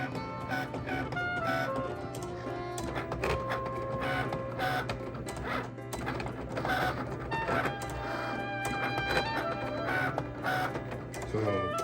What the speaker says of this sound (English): If you want to make your own shirts, I would suggest you get you a Cricut design.